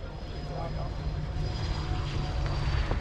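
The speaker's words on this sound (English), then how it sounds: "it's time for GE Aerospace and Beta Technologies with the Saab 340B" A Saab 340B hybrid aircraft from GE Aerospace and Beta Technologies drones steadily at an airshow, a continuous broadband engine roar holding level throughout with faint crowd noise behind it.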